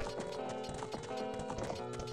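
Horse hooves clip-clopping in the Nintendo 64 game The Legend of Zelda: Ocarina of Time, a steady game sound effect heard without talk.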